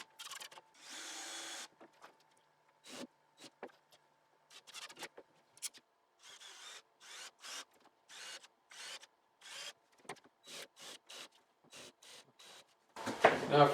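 A power drill drives No. 8, 1.5-inch exterior screws into the slats of a wooden Adirondack chair. It comes in short whirring bursts separated by pauses, with a louder clattering burst at the end.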